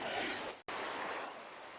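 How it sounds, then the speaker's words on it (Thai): Waterfall at a forest temple in the Phanom Dong Rak mountains, Phu Sing, Sisaket, giving a steady broadband rush of falling water, fairly faint and continuous with one very short dropout. "ซึ่งมี น้ำตกนะครับ ซึ่งไหลมาจากบนภูเขาทางฝั่งประเทศกัมพูชานะครับไหลมา"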